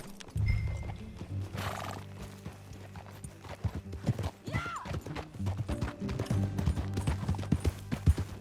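Horse hooves clip-clop steadily while riding in Red Dead Redemption 2, the galloping rhythm close and continuous for several seconds, with neighs and whinnies breaking through and tack and movement sounds layered over the hoofbeats.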